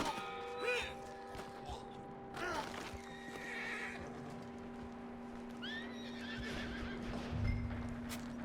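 A horse whinnies several times in Red Dead Redemption 2, shrill and close, over a steady electronic hum, with faint hoof clops and soft background noise.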